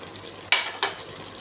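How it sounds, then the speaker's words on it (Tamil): A spoon stirs masala into boiling chicken curry in a pot, making two quick, close scraping strokes over a soft simmering background. "மசாலாவோட சேர்த்து நல்லா கிளறிக்கலாம்"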